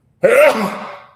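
A single sudden sneeze from an adult man, loud and close, with a sharp onset and a breathy fading tail.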